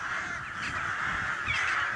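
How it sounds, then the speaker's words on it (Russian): A large flock of rooks caws continuously overhead as the birds rise into the air in autumn, many harsh calls overlapping into a dense, steady chorus with no talking. "Видно, что это не просто точки, а это грачи."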